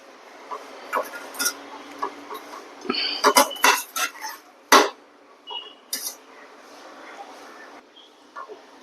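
Vegetable salad being tossed in a bowl for a healthy veg breakfast, giving repeated close clinks and scrapes of utensils against the bowl in an irregular rhythm, busier in the middle, with no talk.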